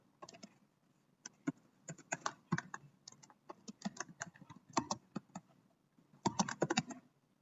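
Code being typed on a computer keyboard, irregular bursts of close, crisp key clicks with short pauses between runs.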